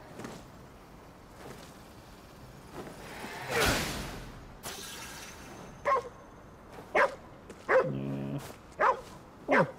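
A dog in the Ghostwire Tokyo video game barks several times, short sharp yips spaced about a second apart, after a whooshing sweep and some faint game ambience.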